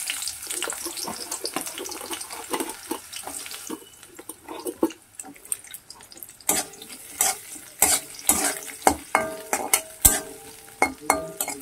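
Chopped onion hits a hot kadai for a Bombay duck (lote fish) dish, crackling and sizzling with scattered sharp pops and stirring scrapes that grow busier toward the end; no one speaks.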